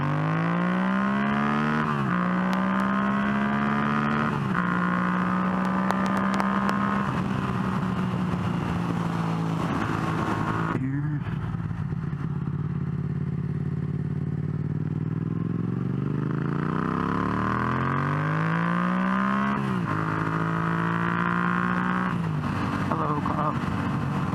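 A Yamaha MT-07 motorcycle fitted with a new air filter pulls hard onto a freeway, its engine revving up through several gears in rising sweeps, with a lull and wind noise between pulls, loud and close.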